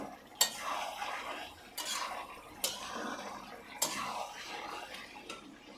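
Chicken rezala being stirred in a pot with a utensil, scraping and clinking against the metal sides in irregular strokes with a few sharper knocks, close and moderately quiet with no talking.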